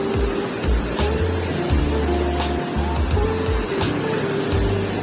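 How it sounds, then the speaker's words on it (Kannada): A motorboat ride on the sea near Gokarna, with a steady engine drone and the rush and slap of waves against the hull, loud and close throughout. "ಅಲೆಗಳು."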